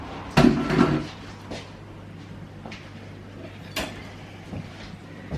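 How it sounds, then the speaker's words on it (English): A metal cheese grater is set down in a kitchen sink with a short clattering knock, followed by quieter scattered kitchen clinks and taps against a low steady hum. "put my grater in the sink."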